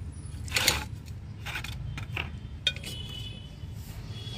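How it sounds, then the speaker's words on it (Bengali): Broken pottery shards dropped into the drainage holes of a bonsai pot for a desert rose, giving a few sparse, light ceramic clinks and clicks that are close and fairly quiet over a low background hum. "হোলগুলো আমি ভর্তি করে দিচ্ছি খোলামকুচির সাহায্যে"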